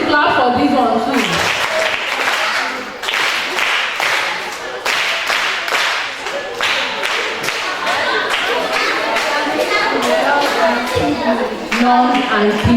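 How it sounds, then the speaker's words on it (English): A classroom audience claps together in a lively round of applause lasting several seconds, with voices mixed in among the dense, close clapping. "We need to clap for this one too."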